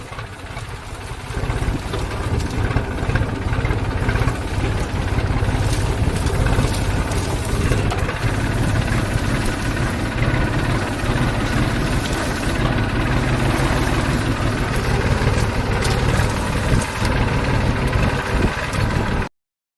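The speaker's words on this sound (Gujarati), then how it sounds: "અત્યારે ટ્રેક્ટર 3જા ગેરમાં હાલે છે" A tractor engine runs steadily in third gear at a medium pace while working a mustard field, a continuous mid-pitched drone with vibration and no talking.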